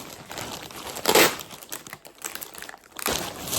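Plastic packaging crinkles and rustles up close as a jacket is packed for shipping, in irregular bursts with a louder crumple near the start and another near the end.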